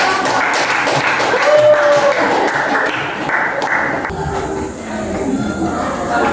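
A classroom audience claps after a group presentation, a burst of dense, scattered hand claps for a few seconds that thins out with some voices mixed in.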